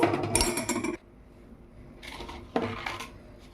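A metal spoon clatters and scrapes around a pot of jaggery semiya payasam with cardamom powder, two bursts of busy clinking separated by a quiet pause.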